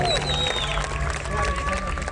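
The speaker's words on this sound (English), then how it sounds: "Give her a round of applause." Dense crowd applause with scattered cheers fills a large theatre at a televised talent-show magic act, loud and continuous throughout, with music or crowd voices blended underneath.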